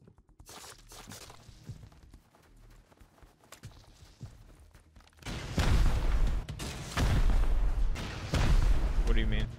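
Loud, heavy rocket explosions during a base raid in the game Rust, with booming blasts that follow quieter footsteps and movement, while players talk.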